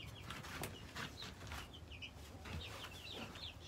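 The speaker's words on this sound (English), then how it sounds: "ooh, is our attack chicken." Backyard chickens clucking in a warm coop, soft short clucks and chirps repeating in quick bursts at a low, close-up level, with a faint rustle beneath.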